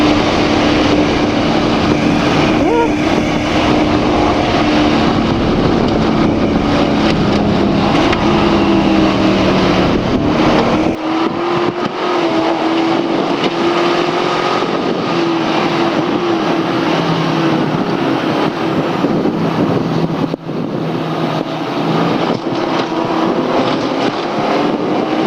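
V8-swapped BMW E30 driven hard on a track, its engine a steady loud drone with shifting pitch throughout, a harsher rumble in the first half before the note thins and carries on under continuous road and wind noise.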